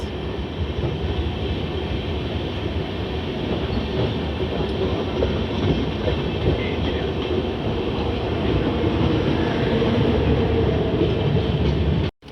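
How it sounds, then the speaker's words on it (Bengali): Shalimar Express passenger train rolls past close by, a loud continuous rumble of wheels and carriages with faint rhythmic clatter, ending abruptly. "এটা হলো আপনার শালিমার এক্সপ্রেস"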